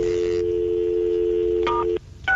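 A telephone line with a steady dial tone that gives way to a couple of short touch-tone dialing beeps, loud and close, briefly dropping out between tones.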